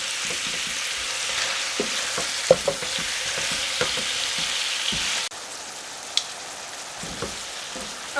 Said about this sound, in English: you are just going to cook this until your ribeye is browned and cooked through